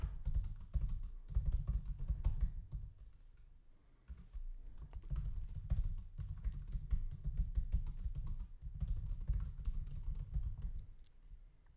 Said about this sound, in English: it's just as quick to type it out